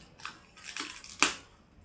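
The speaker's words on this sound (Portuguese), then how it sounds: "Vamos pegar o estilete aqui mesmo." Box cutter slicing open the packaging of a Logitech C270 webcam, a few short scratchy cuts ending in one sharper louder slice, close and fairly quiet with no talking.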